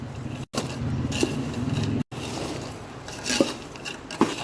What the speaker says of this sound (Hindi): मैं अब इसको मिक्स करूँगी।